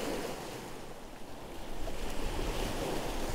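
Sea waves wash ashore at a protected beach in Croatia, a steady broadband surf roar that swells slightly louder partway through, with some wind buffeting and no voices.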